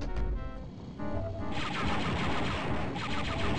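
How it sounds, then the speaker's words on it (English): Gunfire from the shooter game Star Wars: Dark Forces: dense, continuous bursts of blaster shots and crashes, loud and close, firing steadily for the whole stretch with no talking. "And I hear someone shooting at me."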